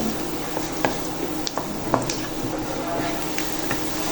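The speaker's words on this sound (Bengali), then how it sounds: "জিরেগুলো একটু তেলে ভেজে নেব" Whole cumin seeds sizzle in hot oil with a steady crackling hiss, broken by a few sharp pops and light stirring clicks at close range.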